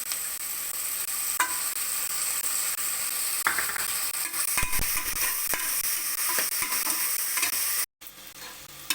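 Onion, ginger and garlic sauté in a pan for chicken soup with a steady close sizzle, repeated scraping spoon strokes and clicks, and a short cut to silence near the end.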